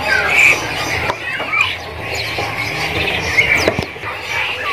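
A caged kerinci bird squawks at a bird shop, giving short, shrill squeaks and chirps over a steady buzzing of insects and other birds, with a few sharp knocks in between.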